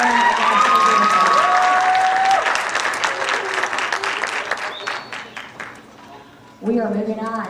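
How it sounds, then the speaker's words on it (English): Loud applause and some cheering from a band concert audience, thinning and fading over several seconds before another burst of activity near the end, with talk mixed in. "applause, please."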